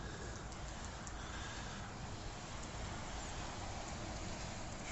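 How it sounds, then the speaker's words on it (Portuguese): Steady rain pours down outdoors beside a road where cars creep slowly, a dense, even hiss of drops that holds without a break for the whole stretch, with no voices. "É chuva mesmo, gente."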